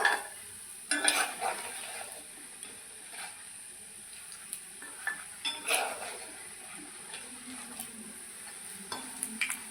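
Meat and lentil pakoras frying in oil, a low continuous sizzle punctuated by scrapes and clinks of a utensil against the pan as pieces are turned over, heard close.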